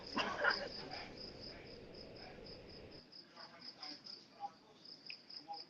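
Crickets chirp in a steady, high, rapid pulse that runs throughout, faint and outdoors, while a voice talks softly underneath and a few scattered noises come and go.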